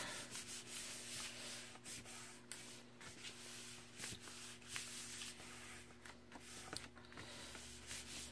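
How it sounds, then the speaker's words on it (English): Paper flap being rubbed down firmly by hand after gluing it in line with a page corner, a steady dry scraping and rubbing with short pauses, close and fairly quiet, without any talk. "And we're just going to give that a good rub."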